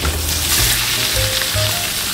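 Fish sizzles steadily in a frying pan as it is turned over, a dense continuous hiss with low bumps of movement as the fillet is flipped, close and loud with no talking.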